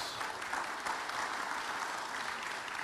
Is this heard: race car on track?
no